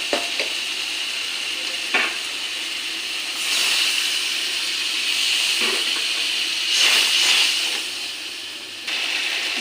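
Hot pan of fried pointed gourd and fish sizzles steadily as water goes in, the hiss swelling into louder steamy surges a few times, close up and with no voices.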